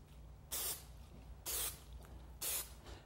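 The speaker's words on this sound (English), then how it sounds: "the first thing I'm going to do is get my contact cement and spray the corner blocks" Contact cement sprayed onto corner blocks for raised panel wall and ceiling work, in three short hissing bursts about a second apart, each roughly a quarter second long, over a low steady background hum.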